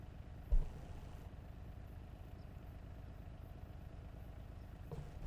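A car engine idles steadily in a farming video game, a continuous low rumble with one brief thump near the start and no talking.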